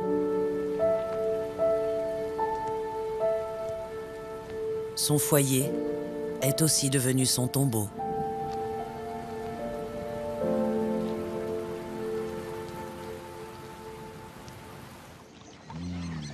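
Steady rain falls over a flooded hyena den, a soft continuous hiss running beneath narration and gentle music.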